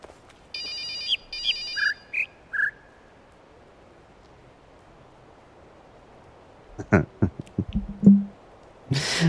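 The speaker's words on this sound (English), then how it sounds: "My guess is that the phone is there to distract you" Phone ringing in the puzzle game The Witness: two short bursts of a shrill electronic ring, then a few chirpy tones, a long quiet stretch of faint ambience, and scattered clicks and thumps near the end.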